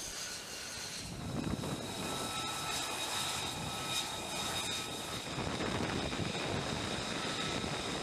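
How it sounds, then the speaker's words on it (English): An F-35C stealth fighter jet launches by catapult from an aircraft carrier deck, producing a loud, steady, broadband jet roar with wind buffeting that swells slightly midway and holds to the end, with no voices. "The catapult launch of the F-35C is done the same way as a usual fighter"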